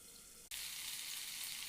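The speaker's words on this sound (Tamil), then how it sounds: "சங்கரா மீன் ஃப்ரை பண்ணிகிட்ருக்கேன்" Sankara fish frying in hot oil, a steady loud sizzle that starts abruptly after a brief quieter moment and holds evenly, close up with no voices.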